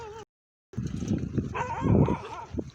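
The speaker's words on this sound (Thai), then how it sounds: "อยูนในวัดหมาก็เห่าอยู่ข้างนอกวัด มันก็เห่า" Dogs outside a Thai temple bark and yelp in a noisy cluster during rain, several overlapping calls at moderate distance after a brief silence.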